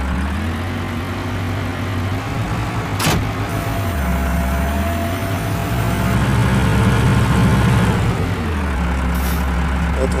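An Indian tractor engine in Farming Simulator 20 runs loud and steady throughout, its low drone shifting in pitch as it revs and settles, with a sharp click near the three-second mark.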